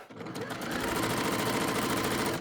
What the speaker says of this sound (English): as we sew we're going to have this seam pushed out so we get it nice and flat